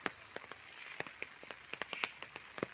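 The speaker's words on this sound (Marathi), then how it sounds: "पाऊस चालू आहे थोडं थोडं रिमझिम रिमझिम रिमझिम" Light drizzle falls over a village at dawn: faint, scattered drops tap irregularly on surfaces, with a soft, steady hiss of rain underneath.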